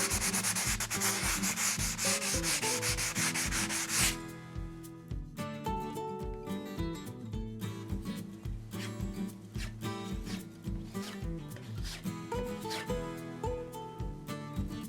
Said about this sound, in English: I'm going to just clean it up with a little bit of 220 grit sandpaper